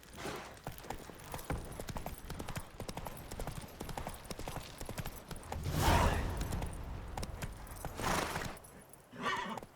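Horse hooves clip-clopping at a steady trot in The Witcher 3, a continuous rhythmic patter with a couple of louder surges and a brief whinny.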